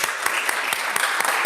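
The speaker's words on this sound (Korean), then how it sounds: "자리에서 잠깐 일어나실 때 박수로 환영하겠습니다" Brief, steady applause from a church congregation welcoming a returning college student at Sunday worship, a dense wash of many hands clapping with a few sharper claps standing out, no talking over it.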